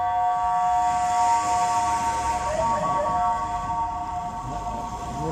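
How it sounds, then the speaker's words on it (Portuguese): An ambulance siren wails on a city street in Laranjeiro, Almada, Portugal, loud and steady with a rising and falling tone over traffic noise, no talking. "O carro fechou a ambulância ali"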